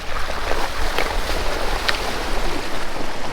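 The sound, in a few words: four-wheel drive vehicle splashing through a creek crossing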